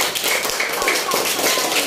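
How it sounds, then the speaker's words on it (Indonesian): Scattered applause from a fourth-grade class cheering a pupil group, a steady patter of many small hands for about two seconds, with a voice or two mixed in. "tepuk tangan untuk kelompok 1"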